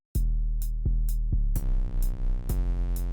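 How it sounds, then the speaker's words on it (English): Two clashing 808 bass notes in a Trippie Redd-style trap beat make a heavy low rumble. Punchy hits repeat in a steady pattern, and the low end gets thicker and more turbulent partway through. "when you introduce another 808, the lower frequencies start clashing and then you get this type of rumble effect"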